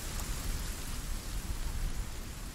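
In the survival video game Sons of the Forest, steady rain patters densely, a continuous close wash of drops without any break.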